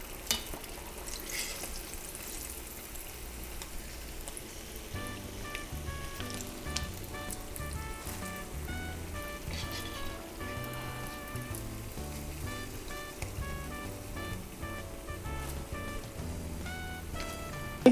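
Food deep frying in oil makes a continuous crackling sizzle, moderately loud and steady throughout, with some tonal background sounds joining after the first few seconds.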